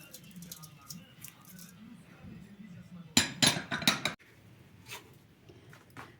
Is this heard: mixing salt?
yes